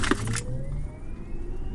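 A Tesla Model S electric car accelerating hard, reaching 100 km/h in 3.3 seconds. A thin motor whine climbs steadily in pitch over a broad road and cabin rumble, with a brief clatter at the start.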